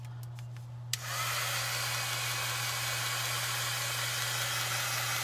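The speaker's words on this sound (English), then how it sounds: "Getting out my heat tool here so I can get this all dried up." A heat tool switches on with a click and blows a loud, steady whooshing hiss with a constant motor hum, drying a Valentine craft project at close range, running continuously without talk.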